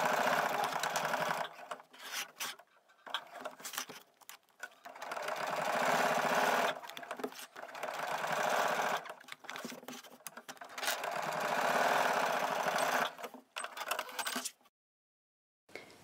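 A domestic sewing machine stitching a straight seam on a fabric card holder runs in several loud, even whirring bursts, separated by short pauses as the fabric is adjusted, and stops near the end.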